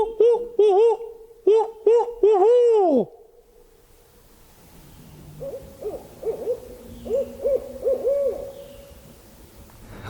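A turkey hunter on an Alabama ridge top imitates an owl with loud, close, rhythmic hoots, then a quieter, more distant owl answers with its own series of hoots.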